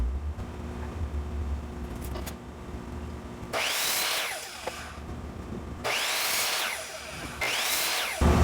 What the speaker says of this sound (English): I'll go ahead and use the miter saw for this